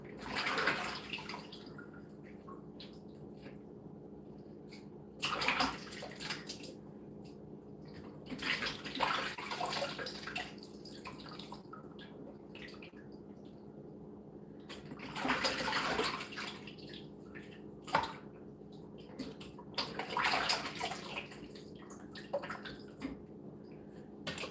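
Food items washed one by one under running tap water, a steady stream with splashing and bursts of louder rinsing, fairly close and without talk.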